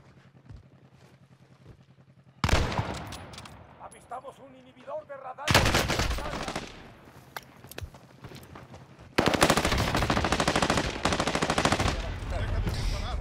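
Bursts of rapid machine gun fire come in three long, loud stretches, separated by a quiet opening and brief shifts, with heavy booming beneath, in the video game Warzone.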